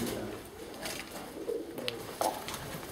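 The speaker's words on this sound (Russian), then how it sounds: "Здесь Голубиная колония самая большая в нашем доме." Pigeons from a large colony coo on the technical floor of an apartment building, soft low throaty calls repeating in short bursts nearby, with rustling between calls and no speech.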